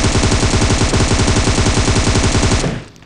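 Automatic gunfire in PUBG Mobile: a loud, close, rapid burst of evenly spaced shots lasting about two and a half seconds before it cuts off abruptly.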